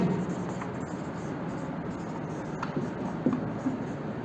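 Pen or chalk writing out a chemical equation, faint scratchy strokes in short irregular bursts against a low background hum.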